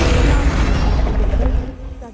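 In Hogwarts Legacy, a Confringo spell explodes as a loud, close blast with a rumbling, crackling tail that fades over about two seconds; a voice speaks over the start.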